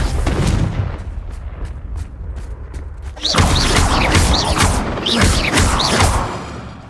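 Repeated fiery blasts of the Confringo explosive spell in Hogwarts Legacy, a loud booming burst after a quieter stretch of rumbling, followed by several crackling bursts in quick succession.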